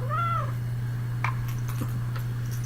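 A house cat gives a single clear, rising-then-falling meow close by indoors, then small clicks and shuffles follow over a steady low electrical hum.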